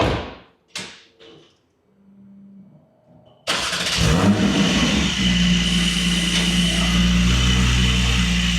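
A Porsche Cayman 718 GTS 4.0 fires up after a few sharp clicks and thuds from a door, its engine catching with a loud flare and then settling into a close, steady rumbling idle as the car is moved.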